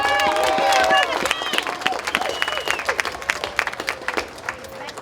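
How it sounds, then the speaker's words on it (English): A crowd at an outdoor rally in Lafayette, Louisiana, breaks into applause and cheering, loud clapping mixed with voices and whoops, swelling at first then thinning into scattered claps with chatter. "Let's give Grandmaster Jay another big round of applause"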